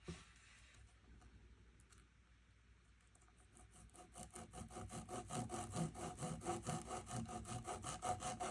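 A hacksaw blade cuts through fly-tying material for a golden stone bug pattern, a close rhythmic back-and-forth rasp that starts faint after a quiet stretch and then builds into steady, even strokes.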